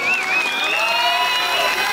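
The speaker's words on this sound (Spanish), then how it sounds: "Que se escuche el aplauso para nuestros participantes." A crowd claps and cheers steadily at a town patron-saint festival dance contest, with a high whistle or shout running over the broad wash of applause.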